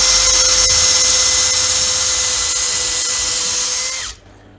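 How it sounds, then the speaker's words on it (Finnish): A power drill bores screw holes into a ski for mounting bindings, a loud steady high-pitched whine running about four seconds before stopping abruptly, close up with no talking. "Porattuu siteelle noin ruuvin paikat"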